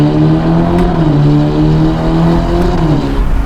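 A 704hp Novitec-tuned Ferrari Roma Spider roars under hard acceleration, its exhaust a loud, close, throaty drone with layered tones that waver and shift slightly as the revs climb, with no voices over it.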